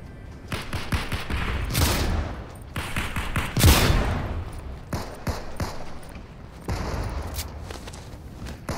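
Shotgun blasts and scattered gunfire from a Fortnite match come in several sharp bursts mixed with running footsteps and other game effects, fairly loud and busy throughout.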